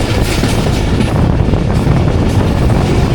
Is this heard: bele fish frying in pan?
no